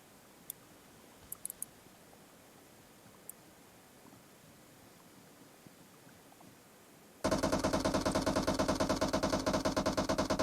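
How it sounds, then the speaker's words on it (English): Rapid automatic gunfire in a team shooter game, fired through smoke during a tournament match, starts abruptly partway through and rattles on loud and continuous after a quieter stretch with a few isolated clicks. "You can see Godzilla and Cal trying to play some shots right there through smoke, trying to get lucky"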